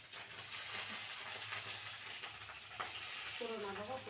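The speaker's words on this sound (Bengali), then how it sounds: "এই দেখো দিচ্ছি কালো জিরে, এবার দেবো রসুন। এই দেখো রসুন আর কাঁচা লঙ্কা দিয়ে দেবো।" Black cumin, garlic and green chilies sizzle and crackle steadily in hot oil, a close, dense frying hiss that carries through, with a brief voice near the end.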